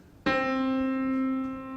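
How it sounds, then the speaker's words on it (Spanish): A single pluck of the whole open string of a monochord, a clean close tone that rings and sustains steadily before slowly fading. "Resulta que la cuerda entera suena así."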